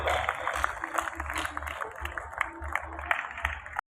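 Loud, dense applause and clapping from an audience at a Diwali gathering and poetry recital, sustained throughout with crowd voices mixed in before it cuts off.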